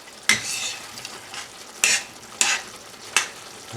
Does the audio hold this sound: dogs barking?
no